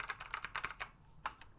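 Typing on a Dell AT101W keyboard fitted with Black Alps switches, a close, quick run of clacky keystrokes in bursts with a short pause before a final pair of presses.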